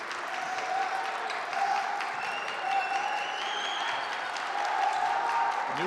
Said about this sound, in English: the Goshen fans applauding the defensive effort